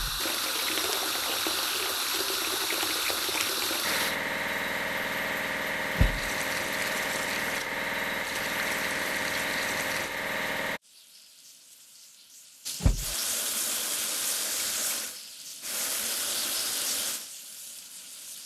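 A steady rushing spray of water washes down a rail-laying machine in a kids' train construction game, loud and continuous with a brief drop-out and a couple of thuds, with no talk.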